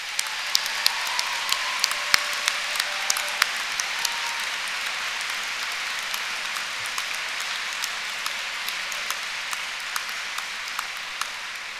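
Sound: applause for academic staff at a university graduation

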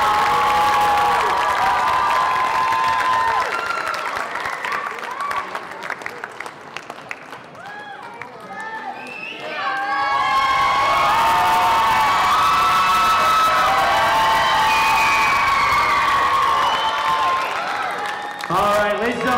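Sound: applause and cheering as contestants take the stage

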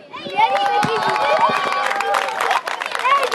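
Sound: players applauding the audience at a tournament closing

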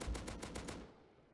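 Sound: AK rifle gunfire in video game Rust

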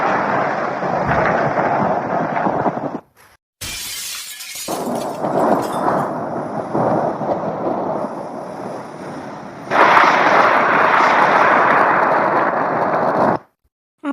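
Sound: thunder

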